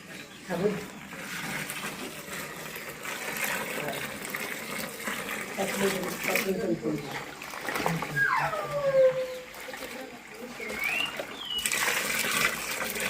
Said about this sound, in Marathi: गुळाचं पाणी हलवा ते मिक्स करा।